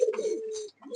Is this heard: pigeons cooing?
yes